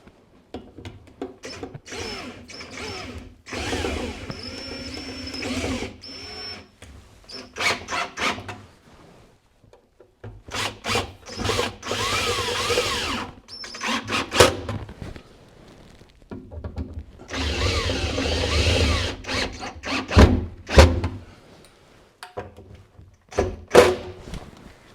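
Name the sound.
tightening down the sink fitting with tools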